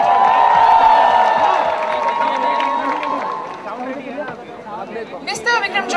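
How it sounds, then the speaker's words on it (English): An audience at a university function cheers and claps for someone being introduced, a crowd roar that fades into scattered claps and whoops, with voices mixed in. "let's hear a warm round of applause for him"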